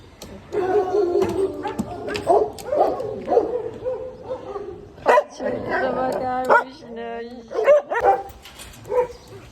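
A dog at an animal shelter barks repeatedly in short bursts mixed with yips and whimpers, close and loud, with a person speaking softly between the barks.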